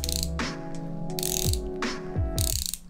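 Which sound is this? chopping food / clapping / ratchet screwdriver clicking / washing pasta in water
ratchet screwdriver clicking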